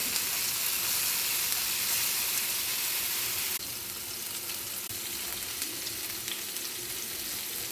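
Fish dropped into hot oil sets off a loud, continuous sizzle of frying in a home kitchen, steady and close, with a slight shift in texture midway through.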